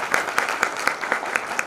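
An audience at a Kayseri e-commerce talk claps steadily, with clear, evenly spaced beats of rhythmic applause at a close, moderate loudness and no other sounds.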